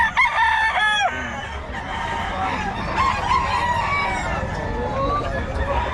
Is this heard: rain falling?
no